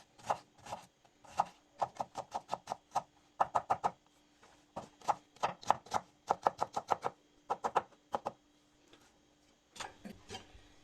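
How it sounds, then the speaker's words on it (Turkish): Onions being diced into small cubes with a knife on a cutting board, crisp rapid chops in quick bursts with short pauses, close and fairly quiet. "Şimdi soğanlarımı doğruyorum. Yine bunları da kuşbaşı olarak doğrayacağım."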